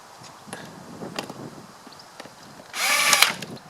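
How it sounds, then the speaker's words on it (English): A short burst of a power drill driving a Torx T25 screw whirs near the end, after a few light clicks and handling knocks in a quiet room, while fitting an air filter to a VW Up! GTI. "back to our drill with the T25"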